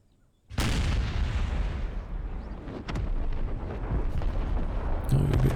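A cannon artillery salvo in Empire: Total War: a sudden loud booming burst followed by a sustained rumbling roar of overlapping shots and echoes, with a second swell near the end.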